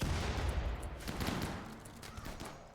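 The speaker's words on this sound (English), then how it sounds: "Oh, that's another grenade." A grenade goes off in the Rimworld video game during a siege on a base: a loud, broad burst right at the start that rolls off into crackling, gunfire-like rumble and fades over a few seconds.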